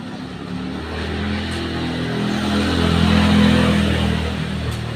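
Cars and other vehicles pass along a roadside: a steady engine rumble and tire roar swells to a peak and then eases slightly, fairly loud and close, with no talking.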